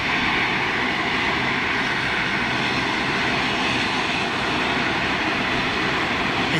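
A steady, heavy broadband roar from an Ilyushin IL-76 jet aircraft, sustained and fairly distant, with no talking.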